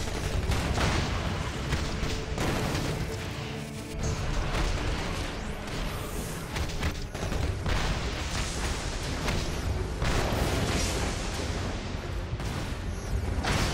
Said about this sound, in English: Destroying their locks will allow us to set up a cascade explosion.